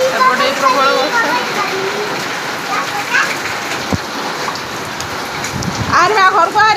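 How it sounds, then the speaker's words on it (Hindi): Heavy rain pours steadily on a house in Hyderabad, a dense continuous hiss of drops on surfaces, with voices and children talking over it and louder spells near the start and end. "प्रबल वर्षा"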